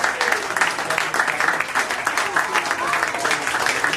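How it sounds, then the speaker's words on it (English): Comedy club audience at the Cheeky Monkey giving a long round of applause, loud and continuous crowd clapping with dense overlapping hand claps and some voices mixed in. "You're going to have to make this a fucking long round of applause"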